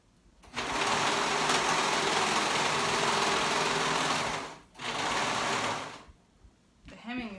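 Sewing machine hemming fabric for a wrap top, running in a loud steady burst for about four seconds, pausing briefly, then running again for over a second before stopping; a voice speaks faintly at the end.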